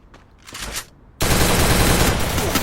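Battle royale video game gunfire: a few faint shots at first, then a sudden loud, dense burst of rapid automatic fire that keeps going without a break.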